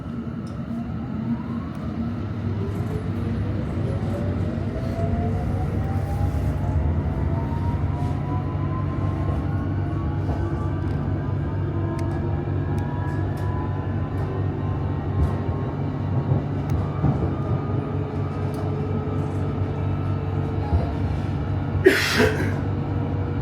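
An 8-car all-station London Underground Metropolitan line train running toward Watford, a steady rumble with a rising motor whine as it accelerates, heard from inside the carriage, with a brief hiss near the end.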